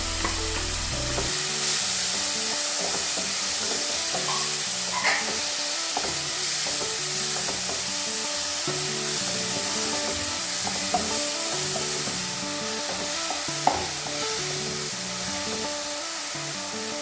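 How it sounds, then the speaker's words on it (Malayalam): Robusta banana frying in ghee, a loud continuous close sizzle and spitting hiss, with occasional stirring clicks from the pan throughout. "ഇനി നമുക്ക് ആ നെയ്യിൽ തന്നെ നമ്മുടെ റോബസ്റ്റ് പഴം ഒന്ന് വാട്ടിയെടുക്കാം."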